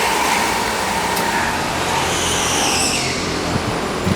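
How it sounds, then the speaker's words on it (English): Racing cars, likely karts, rush down a hill on an indoor-outdoor race course, a dense, loud roar of engines and tyre noise with a brief squeal, steady throughout with no voices. "Geo's the first yellow shirt coming down the hill right now with Scrambled Eggs right on his tail"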